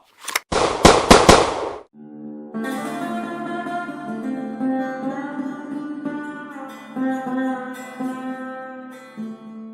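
A shootout in a Gunsmoke radio drama: a quick burst of several loud, sharp gunshots in close succession, then silence and a sustained orchestral music sting.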